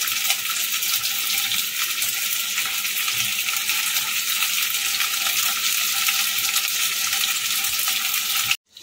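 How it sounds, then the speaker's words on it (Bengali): Cubes of paneer fry in hot oil in a batch, making a loud, even, continuous sizzle that stays steady for several seconds before cutting off abruptly at the end. "একবারে হবে না, আমি দুবার ধরে ভেজে নেব।"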